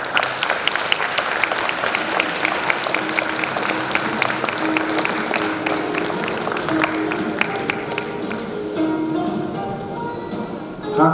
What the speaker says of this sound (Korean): 큰 박수 한번 부탁드리도록 하겠습니다.